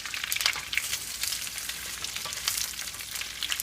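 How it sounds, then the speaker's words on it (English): Mushrooms and vegetables saute in oil in a pan with a continuous close crackling sizzle and a few sharper pops, occasionally stirred. "get them sauteed real nice, get them coated with all that oil"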